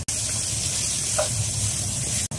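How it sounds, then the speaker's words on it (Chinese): Water poured straight into a pot of fried potatoes and scallions for Gansu sour-cabbage noodle soup gushes and hisses steadily against the hot pan, close and continuous for about two seconds. "直接倒水"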